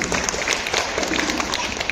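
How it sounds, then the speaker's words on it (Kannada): An audience at a Karnataka cooking competition claps loudly for the judges, a dense, steady burst of applause filling the short moment. "ಸ್ತುತಿ ಮೇಡಮ್ ಅವರಿಗೆ ಜೋರಾಗಿ ಚಪ್ಪಾಳೆ ಕೊಡಿ"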